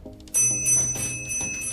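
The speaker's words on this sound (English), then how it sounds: "The bells, the bells!" Bicycle bells in a bike repair shop ring out loud and close, a sharp metallic burst followed by a lingering ring with several overlapping tones and further light strikes.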